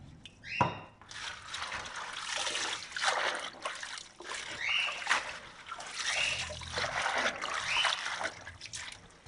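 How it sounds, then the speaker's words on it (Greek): Vegetables dropped into a bowl of water with vinegar, a short knock then continuous close splashing and trickling that swells and eases in waves for several seconds. "Στη συνέχεια τα βάζω σε νερό με ξύδι."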